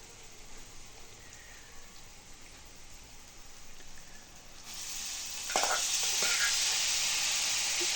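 Hyacinth beans dropped into a hot pan, a sudden loud sizzle that jumps up after a quieter frying hiss and keeps crackling steadily, close by.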